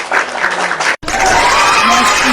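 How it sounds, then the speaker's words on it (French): Audience applause and crowd noise swell in a studio talk setting, loud and near, broken by a brief cut, with speech mixed in under the clapping. "Ça s'applaudit."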